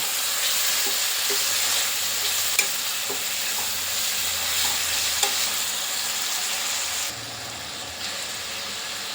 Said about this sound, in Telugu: ఇప్పుడు ఉప్పు పసుపు కలిపి పెట్టుకున్న చికెన్ వేసుకుందామండి.